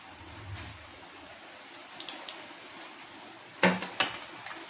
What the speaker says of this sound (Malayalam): എന്നിട്ട് നല്ല പോലെ ഒന്ന് മിക്സ് ചെയ്ത് കൊടുക്കണം